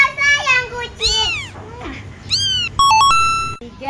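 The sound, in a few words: cat meowing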